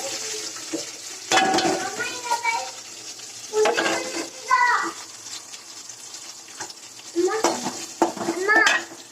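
Six or seven small shallots sauté in a pan. Stirring scrapes and a soft sizzle come in short close bursts, separated by quieter gaps, with a voice speaking intermittently over them.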